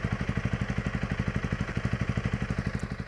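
A Honda CRF300 Rally with its stock exhaust is held at a steady 4,500 RPM while parked, giving a close, even, rapidly pulsing engine drone with a rhythmic throb that keeps going without a break.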